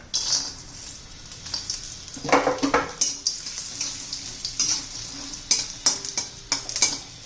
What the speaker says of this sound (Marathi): पहिलं खोबरं भाजून घ्यायचं आहे